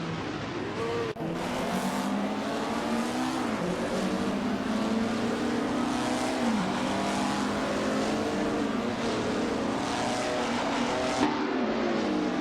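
A 1950s Ferrari Formula 1 race car engine in a racing video game at Bahrain Circuit drones loudly and continuously, its pitch rising and dipping through gear changes, with other engines blended around it and no talking.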